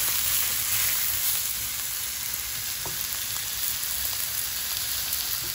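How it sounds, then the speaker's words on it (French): Pork ribs and onions sizzle and fry in hot oil in a pan, a steady, close crackling hiss with a few soft stirring scrapes and no voices. "On a fait revenir avec un peu d'huile."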